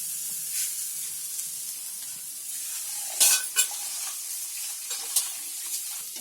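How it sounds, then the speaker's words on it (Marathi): Chopped onions with ginger and garlic fry in a pan on a home stove, giving a steady soft sizzle broken by a few sharp clinks and scrapes of stirring. "इथे कांदा भाजतोय"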